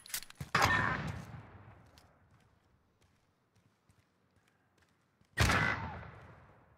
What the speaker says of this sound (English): Give him some warning shots.